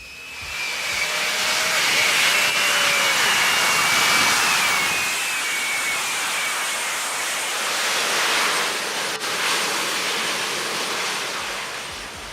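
A Lazareth LMV 496 transforming jet hover bike lifts off with its hub-mounted jet engines pointing down, a loud, steady, broad roar with a rising whine that holds for about twelve seconds.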